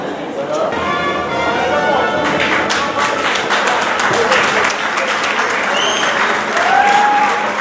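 Loud crowd applause fills a hall during a civil wedding ceremony in Brazzaville, with cheering voices and chatter mixed through the steady clapping.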